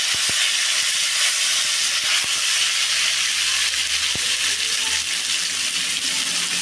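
Ginger and asafoetida sizzle in hot oil in a cooking pan, a loud, steady, close hiss that fills the whole stretch, with a few faint clinks underneath.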